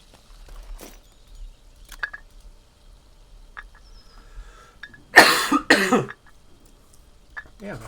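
A person coughs twice in quick succession, loud and close, amid quiet gameplay sounds from a survival game session, with faint clicks before and after.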